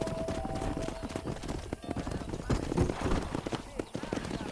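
Horse hooves gallop rapidly and continuously in the Red Dead Redemption video game during a cattle drive down a road, with a busy mix of game sounds throughout.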